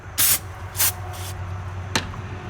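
A few short bursts of aerosol brake cleaner sprayed onto the valve cover gasket surface of a Chevy Cruze 1.4L engine, close by, two quick ones followed by a pause and a final brief spritz.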